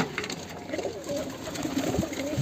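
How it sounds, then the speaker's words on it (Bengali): Pigeons cooing in a loft that holds only a few pairs and their young, soft low throaty coos repeating close by. "দেখুন, এখানে কবুতরই আছে মাত্র এখন 7 জোড়া, কবুতর একদমই কম"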